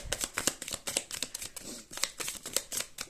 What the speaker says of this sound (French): je vais prendre allez, une petite carte conseil avec l'oracle Parfum d'âme